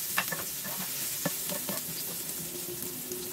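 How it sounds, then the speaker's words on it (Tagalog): Chili peppers sautéing in a pan, a steady soft sizzle with occasional stirring clicks and scrapes. "igisa mo yung sili"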